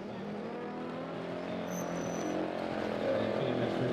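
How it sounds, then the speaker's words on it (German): A student-built race car idles as its engine warms up at a racetrack, giving a steady, moderately loud hum with a slight rise in level toward the end. "Das FH-Team lässt den Motor warm laufen."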